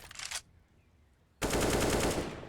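Tech 9 pistol gunfire in Counter-Strike, a short burst of shots, then a lull, then a louder sustained rapid volley of close, sharp reports.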